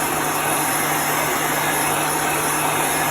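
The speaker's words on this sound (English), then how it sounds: "You want to keep your heat gun moving, and you can use a hair dryer for this." A loud, steady blowing whir with a high whine runs without a break from a heat gun held close, drying chalk paste.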